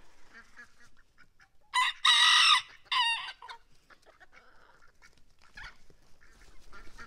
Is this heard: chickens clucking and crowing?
yes